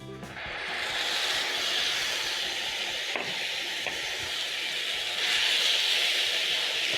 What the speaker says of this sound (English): Over here, I have 3 blended tomatoes, which I'm going to be adding to my pan.